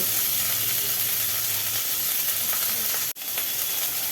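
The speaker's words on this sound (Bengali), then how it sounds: "তারপরে পড়ল সজনে ডাটা ডাটা পেঁয়াজ একটু ভাজি ভাজি হচ্ছে" Drumstick stalks and onion sizzle steadily in hot oil in a pan, a loud, continuous frying hiss with a brief dropout near the end.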